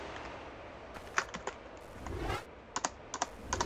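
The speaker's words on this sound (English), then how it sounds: "joyous clicky clacks of the keyboard" Keys on a PC keyboard click and clack in scattered bursts while playing a game, quiet and close, with a few irregular taps and short runs of typing and no voices.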